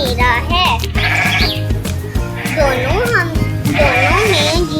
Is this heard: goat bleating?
yes